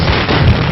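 A brief, very loud burst of firecrackers set off at a village welcome, a dense crackling blast that fills the moment with no pause.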